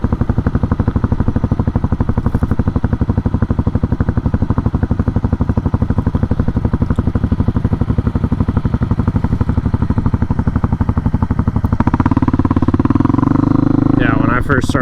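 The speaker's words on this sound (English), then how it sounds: "so now that she's used to kickstarting it, she just kickstarted it and" An Apollo 125cc dirt bike engine idles steadily after a kickstart, a close, continuous mid-pitched motor drone that rises slightly in loudness near the end.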